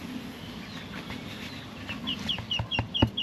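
Backyard chickens cluck at feeding time, a series of short rising clucks growing louder and closer toward the end over a busy rustling background.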